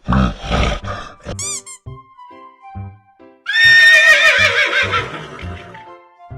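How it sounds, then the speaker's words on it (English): Animated horse neighing loudly in a cartoon for children: a bright, shaky whinny that rises and then trails off over a few seconds. It follows a short stretch of quieter musical tones and effects, with no talking. "Horse."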